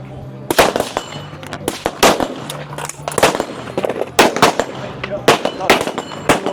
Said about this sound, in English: have 5 shots for this round with steel